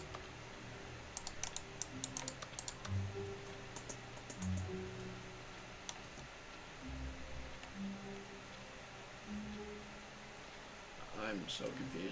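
Keyboard typing clicks triggered with each click in a video game, sounding as scattered light taps over low game music and ambience, with a voice talking across the clip.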